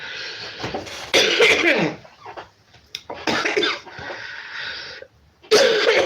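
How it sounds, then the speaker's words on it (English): A man coughs repeatedly in close, loud bursts, with short pauses between the coughs and faint breathing between them, indoors. "I've developed a cough"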